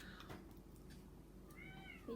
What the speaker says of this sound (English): Oh my God, listen to her cat.